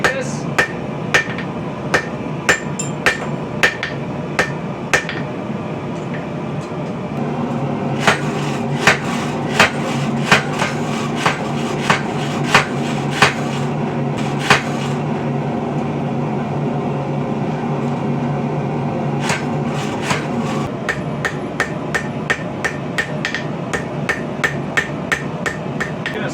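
A homemade compact treadle hammer pounds steel bar stock on a forge, a steady train of sharp metallic strikes coming in bursts with brief pauses, loud and close with no voices.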